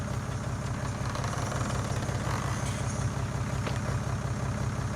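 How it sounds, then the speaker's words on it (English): A tractor engine idles in Farming Simulator 19, a steady, loud low rumble with an even hum that holds unchanged for the whole stretch, with no talking. "Leave the engine running."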